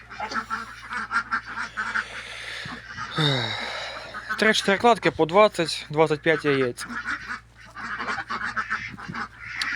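Muscovy ducks quack and honk loudly in a nasal run of calls while a person talks over and around them.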